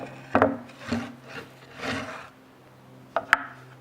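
A hand saw cuts wood guided by a Katz-Moses magnetic dovetail jig, a few short rasping strokes spaced out, then two sharp knocks near the end, close and fairly quiet.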